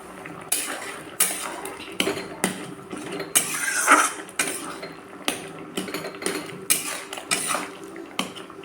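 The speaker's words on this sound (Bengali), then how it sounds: "একটু এরকম খুন্তি দিয়ে এই কচুগুলোকে একটু গালায় দেবো" A metal spatula knocks and scrapes against a curry pot while mashing boiled taro in prawn malai curry, giving repeated sharp clanks and scraping strokes in an irregular rhythm, close and clear, with no talking.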